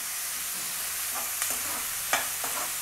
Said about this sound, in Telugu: ఉల్లిపాయలు దోరగా వేసుకున్నాక చూపిస్తాను